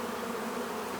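A honey bee swarm being moved into a hive gives a steady, dense buzz that holds even throughout, close and continuous with no pauses.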